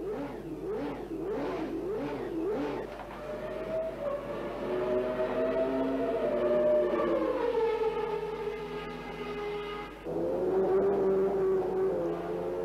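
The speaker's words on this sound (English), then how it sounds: "It also shows the confidence that Honda have in the new engine to test it for the first time in public." A 1990 Honda V12 engine in a McLaren MP4/5B Formula One car on track, a high-pitched wail rising and falling through gear changes, rapid revving pulses first, then a long sustained scream and a fresh climb near the end.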